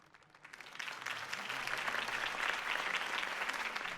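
Video game crowd applauding at a Harvey Dent campaign rally in Batman by Telltale, starting moderately and swelling into steady, dense clapping that fills the whole stretch with no talk.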